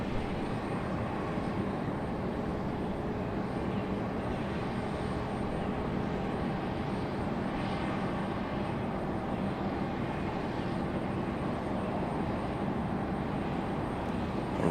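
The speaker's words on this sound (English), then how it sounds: "Arrival on the downwind." An aircraft flying the downwind leg on arrival at Raleigh-Durham International produces a faint, distant, continuous engine hum, soft and steady throughout with a light whine on top and no speech.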